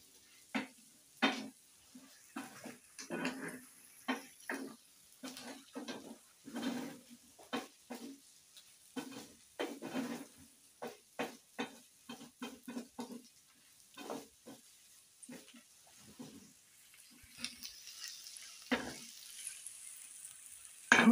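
A spoon scrapes and stirs through matumbo (beef tripe) dry fry in a pan, giving repeated close knocks and scrapes in an uneven rhythm over a faint low sizzle, with no talk.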